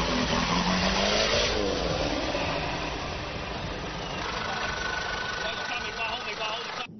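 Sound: rainforest off-road racing car engine wading through muddy water

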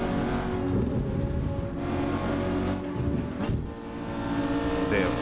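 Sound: car engine while drifting in Assetto Corsa video game

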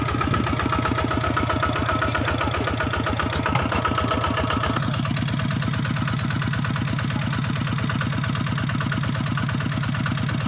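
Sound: tractor engine running while plowing a rice field

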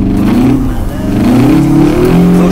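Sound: car accelerating

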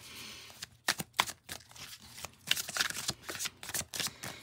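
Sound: shuffling a deck of tarot cards

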